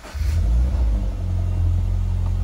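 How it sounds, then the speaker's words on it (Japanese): Subaru BRZ 2.0 S with an HKS aftermarket muffler cranks and fires up, then settles into a deep, steady idle rumble, heard close and alone. "ちょっとエンジンかけてみます。"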